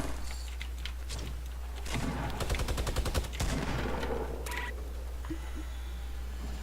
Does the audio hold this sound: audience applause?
no